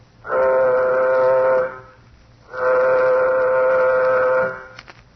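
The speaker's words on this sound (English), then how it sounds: "Sound warning signal." Two long, steady horn-like warning blasts sound one after another, each about two seconds, loud and close, separated by a short pause.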